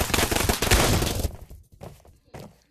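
Rapid, dense gunfire from the multiplayer VR shooter Pavlov fills the first second and a half as a loud, overlapping burst, then gives way to a few scattered, fainter shots and quieter background noise.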